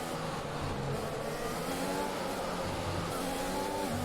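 Formula 1 car engine in the F1 2021 video game, a steady loud drone of high revving with shifting pitch, continuous throughout with no pauses.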